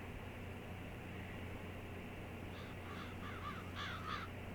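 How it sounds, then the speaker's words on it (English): Crows caw repeatedly in Farming Simulator 22 on a farm field with straw, a series of short harsh calls rising in the second half over a constant hiss of ambient noise. "Look at those crows eating my straw."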